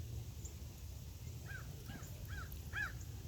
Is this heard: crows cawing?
yes